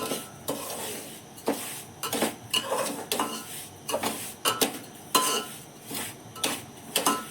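A cucumber cake (sweet dish) roasts in village ghee in a pan over a medium flame, with repeated metal scraping and clinking from a spatula over a faint sizzle.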